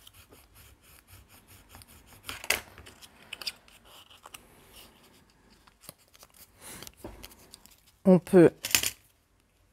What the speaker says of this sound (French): légèrement couper en biais les petits coins